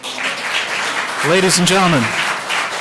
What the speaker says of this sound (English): I have to ask you to stop the clapping so we can keep this meeting going.